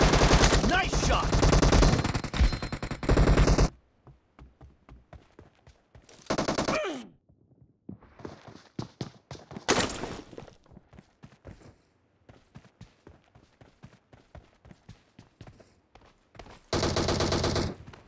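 Loud, close automatic gunfire from PUBG Mobile team deathmatch, long sustained bursts alternating with scattered single shots and short volleys, with brief quiet gaps between them.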